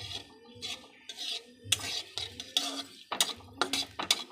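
Cumin seeds and dried chillies are stirred in oil in a pan, with a spoon scraping and clinking in rhythmic strokes, close and clear, and no voices.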